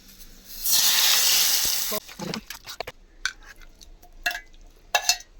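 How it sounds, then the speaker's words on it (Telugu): Garlic, curry leaves and dried red chilies tempering in hot oil for a roasted brinjal chutney burst into a loud, steady sizzle lasting over a second, then give way to scattered clinks and scraping of a spoon in the pan. "ఇప్పుడు పోపు వేసేసుకుందాం"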